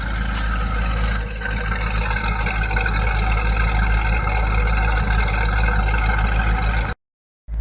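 A C5 Corvette with a symmetrical exhaust bypass mod on both sides idles steadily, a low continuous rumble heard from inside the car, with a brief dip near the end before it cuts to silence.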